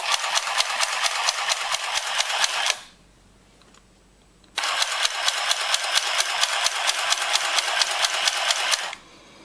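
A hand-operated sewing machine runs a straight stitch line in two bursts of rapid, even mechanical clatter, nearby and loud, separated by a short quiet pause.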